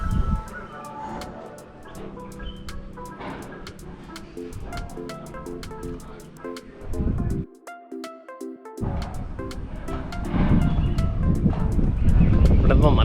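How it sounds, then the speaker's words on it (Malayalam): Cold wind gusts across an open hillside at the Heyday Thazhvaram resort in Panchalimedu, roaring against the microphone as a steady low rumble. It eases briefly midway, then swells louder toward the end, with faint music underneath. "നല്ല തണുത്ത കാറ്റ് ഇങ്ങനെ അടിക്കുന്നുണ്ട്."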